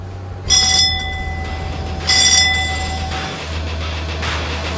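Two bright metallic bell strikes on a fishing boat at the morning start of fishing, about a second and a half apart, each leaving a long ringing tone over a steady low engine rumble.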